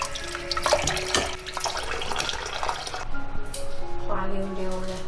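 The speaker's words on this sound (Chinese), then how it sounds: "把蛏子清洗干净" Razor clams washed by hand under a running kitchen tap, a close steady stream of water with splashing, squishing handling sounds and occasional clinks.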